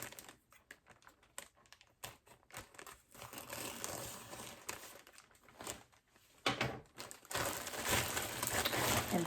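AliExpress plastic package bags are cut and torn open, with crisp crinkling, rustling and tearing of thin plastic in irregular bursts, close by and moderately quiet, growing denser toward the end.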